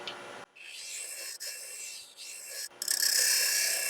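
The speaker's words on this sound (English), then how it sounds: "I'm just going to use it as a negative rake scraper" Skew chisel used as a negative rake scraper, shaving a wooden capsule box spinning on a lathe, gives a steady loud rasping scrape in a few long passes with brief breaks between strokes.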